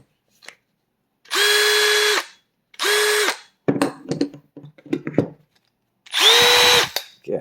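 A compact cordless drill whirs in three short bursts, its motor revving up and down, with clicks and handling clatter between runs.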